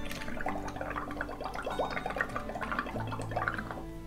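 Bubbles blown into a liquid for a rhinestone DIY ornament craft, a rapid, continuous bubbling gurgle with rhythmic bursts, close and steady, no voices.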